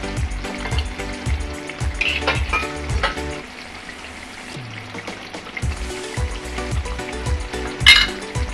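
Katla kalia fish curry sizzles in a pan as fried onions and ghee are added, with a bubbling fry, occasional stirring clatter and a brief sharp hiss near the end, moderately close.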